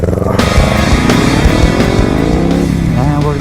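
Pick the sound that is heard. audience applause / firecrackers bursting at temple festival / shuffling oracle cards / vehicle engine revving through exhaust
vehicle engine revving through exhaust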